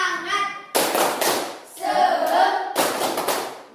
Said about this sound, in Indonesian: Satu orang saya minta untuk tepuk, memimpin kita dalam tepuk semangat